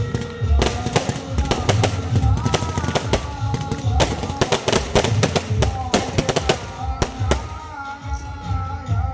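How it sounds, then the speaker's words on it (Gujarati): Firecrackers burst during a Navratri night celebration at the Ashtami maha aarti, a dense, loud string of sharp cracks and pops in rapid irregular volleys, with crowd noise underneath. "સરસ મજાના ફટાકડા ફૂટે તમે જોઈ શકો છો."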